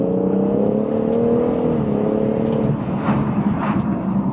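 A BMW M140i with its B58 engine and M Performance exhaust revs as it pulls through the gears with the windows down, a droning engine note rising then dropping as the car shifts, heard from inside the cabin.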